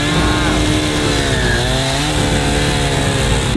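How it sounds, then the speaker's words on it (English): A chainsaw runs flat out, cutting through a door, a loud, dense, continuous engine snarl and wood-chewing roar that never lets up from start to finish. "Does he know how to work a chainsaw?"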